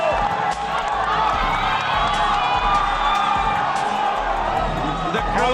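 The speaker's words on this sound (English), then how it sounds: "The crowd is so loud." A loud crowd at a local semi-pro flyweight MMA event roars and cheers continuously, with whoops and shouts piling into a dense, unbroken wall of noise.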